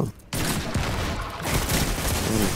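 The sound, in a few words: rapid gunshots in a video game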